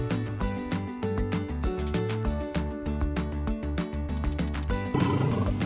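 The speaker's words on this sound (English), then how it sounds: "White tiger." A white tiger roars under steady, rhythmic background music, with a louder, rougher burst near the end.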